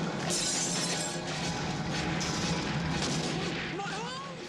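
Fireworks explosions in a fantasy film scene, The Dark Crystal, a dense continuous crackle and boom of bursts and shattering debris filling the whole stretch, with faint voices underneath.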